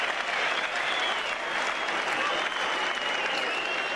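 Cricket crowd at a 1988 Australia versus West Indies Test in Brisbane applauds a boundary struck by Geoff Marsh, a sustained wash of distant stadium clapping and cheering that stays steady throughout.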